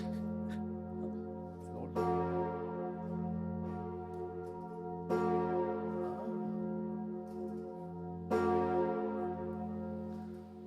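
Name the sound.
Emmanuel bourdon bell of Notre-Dame de Paris, cast 1683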